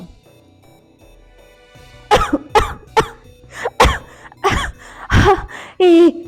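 Someone coughs loudly and repeatedly, about seven harsh coughs in quick succession after a quiet start.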